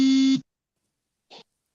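A phone ringing with a short electronic tone, then a pause and a second brief burst, loud and close with nothing else around it.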